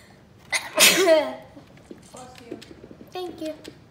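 A single loud, close sneeze bursts out during a Bed Wars game session, followed by a brief pause and then casual speech from a nearby voice.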